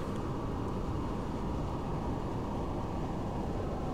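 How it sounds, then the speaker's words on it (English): A rocket engine fires in the space-flight game Kerbal Space Program, a loud, continuous broadband roar with deep rumble that holds steady throughout with no pauses. "Activate our engine."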